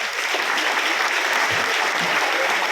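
A hall audience at a centenary birthday tribute concert for a Ramakrishna Mission music teacher claps in a dense, even burst of applause that holds steady throughout.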